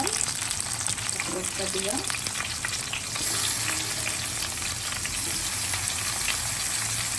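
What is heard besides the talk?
masala-stuffed brinjals frying in oil with onions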